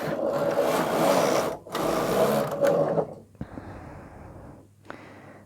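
A knitting machine carriage is pushed across to knit off the end needles while shaping a short-row sleeve cap, giving a loud, close rushing whir in two long passes, then quieter scraping and clicks.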